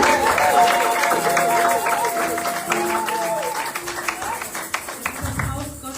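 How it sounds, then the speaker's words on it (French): A Pentecostal church congregation applauds a family during a Sunday service, with clapping under overlapping speech and sustained tones, thinning toward the end into scattered louder claps. "Est-ce qu'on peut applaudir cette famille?"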